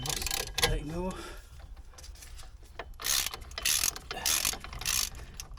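A ratchet loosens an 8 mm bolt on a Ford Mondeo Mk4 front hub, giving several bursts of rapid metallic clicking, close and loud, with brief gaps and faint handling noise between them.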